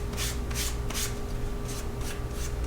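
A leather card holder edge is rubbed with finer-grit sandpaper after a little moisture, giving soft, rhythmic rasping strokes, about six close passes over a steady low background hum.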